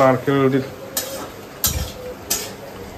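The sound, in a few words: coconut frying for khichuri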